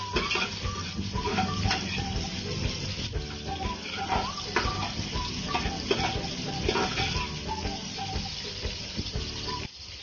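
White onions sizzling in a pan for pork pochero, a steady close crackle and hiss with light stirring clatter, continuous and moderately quiet.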